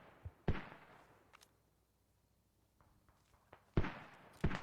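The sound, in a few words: mortar fire in a video game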